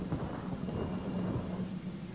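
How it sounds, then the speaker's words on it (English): A rain spell's thunderstorm in the video game Divinity: Original Sin, a steady wash of heavy rain pattering down with low rumbling thunder underneath, dense and continuous with no talk. "I'm going to use my actual rain spell"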